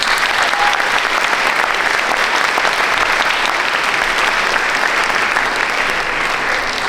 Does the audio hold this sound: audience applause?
yes